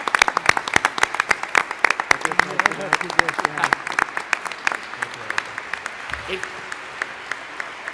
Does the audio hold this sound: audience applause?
yes